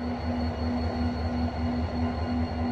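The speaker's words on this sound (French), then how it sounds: "L'Oriental Desert Express n'est pas un train comme les autres." Moroccan Oriental Desert Express train hauled by a 1974 General Motors DH series diesel locomotive, its steady engine drone and rhythmic rail rumble continuous and close, with no voices.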